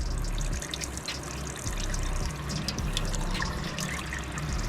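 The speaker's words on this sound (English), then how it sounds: "water's coming out slow." Water rushes steadily through newly plumbed PEX lines of an instant-on hot water heater and boiler combination system, a continuous close hiss with faint trickling and no talk.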